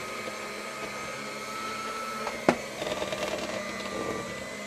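An electric mixer on its low setting whirs steadily through cake batter, a constant motor hum with one sharp knock partway through.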